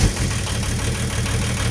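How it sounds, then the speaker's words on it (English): Volvo 740 with a D24tic turbo diesel and HX35 turbo runs on its first start after a new 3-inch downpipe and exhaust, idling with a loud, close, steady low diesel rumble and knocking clatter. "First start, new exhaust."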